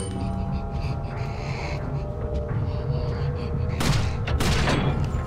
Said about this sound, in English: I could now use my pistol.